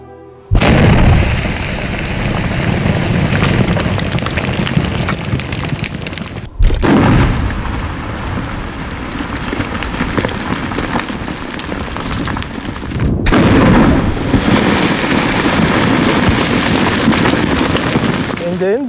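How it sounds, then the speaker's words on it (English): Explosive blasting at an emerald mine in southern Ethiopia: a loud sustained roar of detonations and rumbling rock, with sharp new bursts breaking in around the seventh and thirteenth seconds, dense and close. "so after 5 minutes the blasting will be gone by the explosive person."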